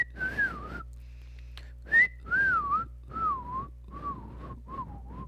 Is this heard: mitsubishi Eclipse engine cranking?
no